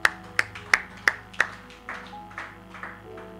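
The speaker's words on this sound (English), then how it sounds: "Clap for God." A church congregation claps together in a burst of about five sharp, loud, evenly spaced claps, followed by several softer, more scattered claps trailing away.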